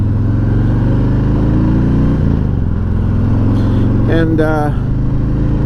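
A 2021 Harley-Davidson Freewheeler trike engine rumbles steadily while riding, a loud low drone with wind noise and a shift in pitch partway, a voice speaking briefly over it.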